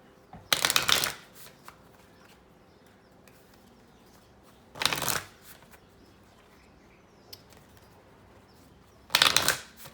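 Three bursts of tarot cards from a Moonology deck being riffle-shuffled, each a second or so long, close up with quiet pauses between.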